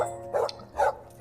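A household dog barking at home at night, two short loud barks spaced about half a second apart over a low background hum.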